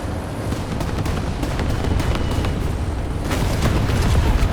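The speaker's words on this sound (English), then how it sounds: "And another bomb that almost flipped me." A bomb going off in War Thunder with a heavy, sustained low rumble and booming blast that swells slightly toward the end, loud and close, with no talking.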